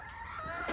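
A chicken clucks up close in a short, raspy burst, with no other sounds around it.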